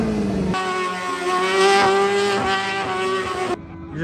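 A car revving hard at a street stunt spot, a loud sustained high-pitched engine whine that holds steady for about three seconds before cutting off.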